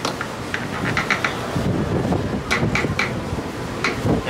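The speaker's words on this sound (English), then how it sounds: "y'all hear how windy it is out here?" Wind gusts rumble across the microphone outdoors, mixed with scattered clicks and rattles of nearby objects.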